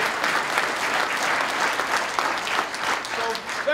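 A room full of people applauding steadily, a dense continuous patter of clapping that holds without a break.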